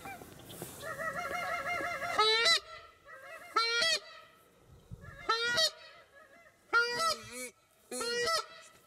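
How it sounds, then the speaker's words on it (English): Geese honk in repeated loud bursts during an opening-day duck hunt, several birds calling together in uneven groups, with quieter gaps between calls. "Here comes the goose."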